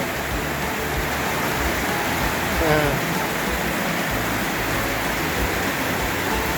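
Steady rain falls in a constant hiss of broadband noise, with a brief faint sound in the middle.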